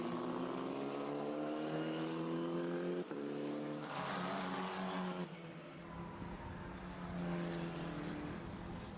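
A Formula 4 race car at Jerez, Spanish Formula 4 Championship 2021, roars loudly through the centre chicane, its engine note dropping and rising through downshifts, then accelerating away with a strong revving whine.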